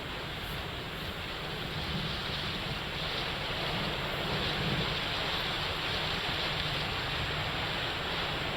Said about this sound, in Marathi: मान्सूनच्या पावसाच्या जोरदार सरी बरसू लागल्या